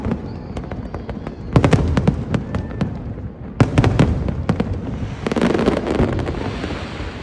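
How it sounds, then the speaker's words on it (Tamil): Fireworks over Merlion Park during Singapore's 59th National Day celebration: a run of sharp bangs and crackling bursts, some in quick clusters, then a denser crackling burst, heard from a distance with wind buffeting the microphone. "மெர்லைன் பார்க்கில் ஃபயர் ஒர்க்ஸ் ஆரம்பித்தாங்க."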